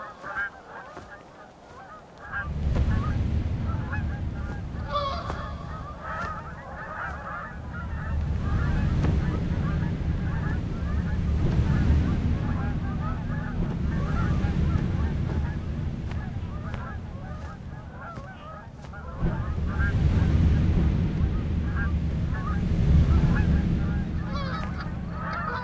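Geese honking repeatedly in a flock, loud and near, with overlapping calls in irregular bursts over wind noise across the whole stretch.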